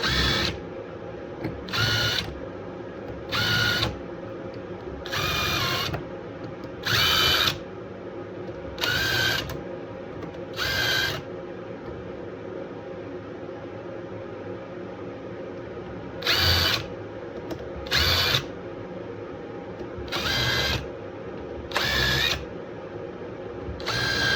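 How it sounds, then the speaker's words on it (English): A power drill pre-drilling holes in wooden coasters runs in a series of short bursts, each a few seconds of whirring, with pauses between and a low background hum throughout. "give yourself a little pre-drill,"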